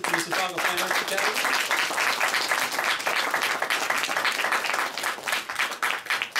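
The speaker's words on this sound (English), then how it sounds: "big round of applause for all the newest performers at the Mississauga Fine Arts Academy" An audience at a winter music recital claps for the newest performers, producing a dense, steady round of applause that thins slightly toward the end.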